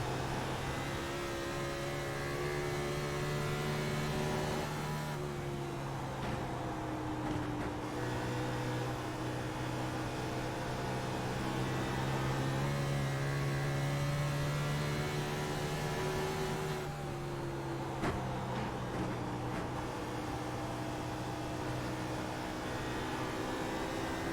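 In-car engine sound from a stock car on board at Dover International Speedway in a racing video game, a loud continuous drone with steady tones that dip briefly and rise again, with no talk over it.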